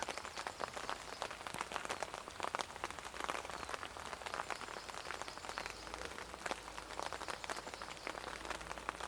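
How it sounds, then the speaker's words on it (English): Steady rain patters on foliage and ground in woodland during an air-rifle squirrel-shooting outing, a dense continuous hiss of drops with no voices. "Just going to sit in the rain."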